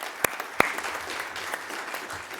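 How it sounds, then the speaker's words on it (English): A city council meeting crowd gives a round of applause, steady moderate clapping throughout with two sharp louder claps near the beginning. "that deserves a round of applause."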